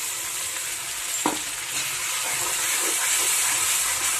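Onion-tomato paste hitting a pan of frying onion and capsicum, with a steady close sizzle, a sharp utensil knock near the start, then scraping stir sounds as the hiss swells slightly.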